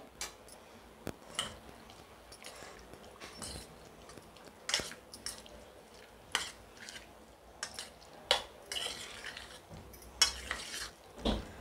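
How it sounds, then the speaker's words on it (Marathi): Chicken being stirred by hand with turmeric, salt and yogurt in a metal bowl gives soft scattered clinks and squelchy scraping, faint and irregular, with no voices. "आणि मी हे सर्व मिक्स करून घेते आहे।"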